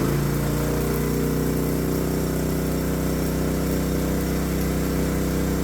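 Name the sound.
welding generator engine running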